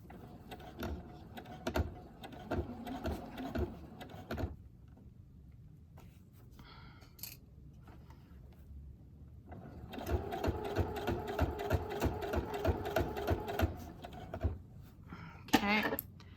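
Sewing machine stitching a finished edge onto a fabric purse journal, running in two long motorized bursts of rapid, even needle clatter separated by a quieter pause with small handling noises, close up.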